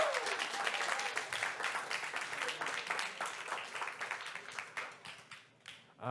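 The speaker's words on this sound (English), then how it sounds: "Can we get one more cheer for the video though" A concert audience at an album release show claps in a dense burst of applause that fades out toward the end, with a few scattered cheers under it.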